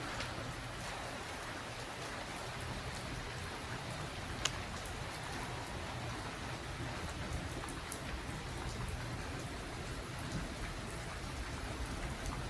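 Steady thunderstorm rain pours continuously in Montreal's Saint-Henri district, a dense even hiss with a low rumble underneath, with no voices.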